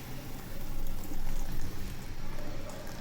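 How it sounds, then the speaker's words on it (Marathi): Thin ragi flour and water slurry pours into a pot of soup with a steady, soft, continuous splashing hiss. "आपल्याला आत्ता जे आपण रागीचं पीठ पाण्यात जे आपण हे करून घेतलं आहे ना पातळ करून घेतले ते आता ह्यामध्ये आपल्याला घालायचं आहे"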